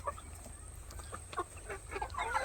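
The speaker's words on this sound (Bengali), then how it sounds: "এই দেখো মুরগিগুলো খুবই অ্যাক্টিভ আছে" Several chickens cluck and murmur softly nearby, short irregular calls overlapping above a low steady hum.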